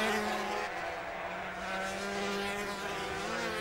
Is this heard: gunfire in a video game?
no